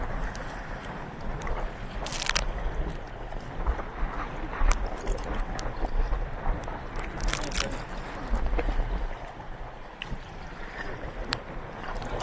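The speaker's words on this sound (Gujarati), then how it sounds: "મોજો એ વધતી ગયો ને હવા વધતી આવે." Steady wind roars across the microphone over the wash of waves on a fishing boat at sea, with occasional gusts and splashes rising through the constant rush.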